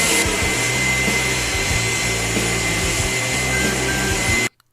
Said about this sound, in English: This is a turbine. He gets this up and running.